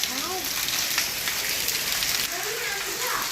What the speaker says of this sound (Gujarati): અત્યારે ભજીયા ખાવાના એટલે વરસાદ આવે છે એમ. ધીમો ધીમો વધતો જાય છે.